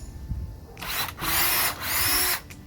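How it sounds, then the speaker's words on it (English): A small power drill bores a pilot hole into wood before a 1 5/8 screw goes in, two short close whirring bursts separated by a brief pause. "So I take my little drill bit on the top of this and just do a little hole here like that."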